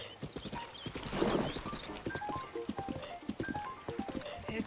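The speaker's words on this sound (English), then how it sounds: "now my horse is running this gauntlet on its own" A horse in the video game Breath of the Wild gallops along, its hooves clip-clopping in a quick steady rhythm, with a brief whinny and light game music over the hoofbeats.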